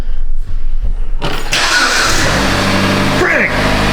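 A car engine cranks and catches, then settles into a steady running rumble with broadband mechanical noise; a brief whine rises near the end.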